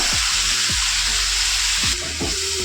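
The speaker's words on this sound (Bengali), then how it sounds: "এবার মশলার মধ্যে দিয়ে দেবো সামান্য অল্প একটু জলটা দিয়ে মশলাটাকে কষিয়ে নেব" Spiced masala with a little sugar and a splash of water sizzles loudly in a pan for a taro-root dhoka dish. A bright, steady hiss carries on throughout, broken by a few low scraping stirs.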